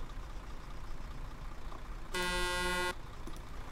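A vehicle horn in a battle royale video game blares once, a single loud sustained honk lasting under a second over a quiet engine and ambient background.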